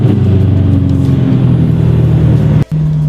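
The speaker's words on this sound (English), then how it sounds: "Rev 9 Audi R8 exhaust fired up, heated up, ready to go" An Audi R8 with a Rev 9 exhaust idles warm and steady, a deep rumbling drone with a brief dip near the end, close and loud with no talk.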